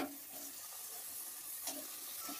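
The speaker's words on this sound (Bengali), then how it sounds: "2 মিনিট মশলাটা ভাজার পরে আমি দিয়ে দিচ্ছি কেটে রাখা টমেটো" Chopped tomatoes drop into a spice paste frying in oil in a pan for fish kalia, giving a steady close hiss of sizzling with a brief brighter burst partway through.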